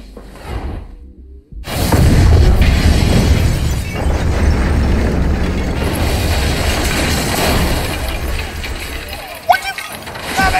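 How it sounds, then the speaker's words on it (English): A sudden loud blast erupts after a brief quiet, followed by a sustained roaring rumble and crashing debris, with a voice heard faintly beforehand. "What is that explosion?"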